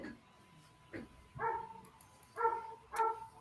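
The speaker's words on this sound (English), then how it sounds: "Is that a dog?" A few separate dog barks ring out near, with short pauses between them, and faint voices sit underneath.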